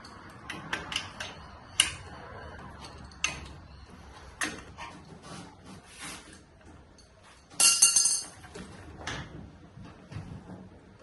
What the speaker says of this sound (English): That little S bracket's locking in and we're locking in here, so it's nice and solid now, in the right spot.